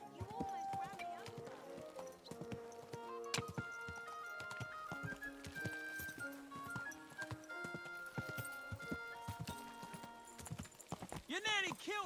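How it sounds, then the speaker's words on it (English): Rhythmic clip-clop of horse hooves trots along steadily amid layered music and sound effects in the video game Kingdom Come: Deliverance II, with a horse whinnying near the end. "It's a shame I can't get the horse to go any faster."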